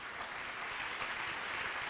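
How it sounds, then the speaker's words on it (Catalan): Faint, distant applause from a seated audience at a municipal archives workshop, a short, soft wash of clapping with no voices. "crec que es mereixen un aplaudiment,"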